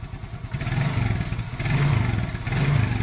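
A Kawasaki Fury motorcycle engine idles close by with a low, pulsing beat, then revs up in three short, quick throttle blips, each rising and falling back to idle.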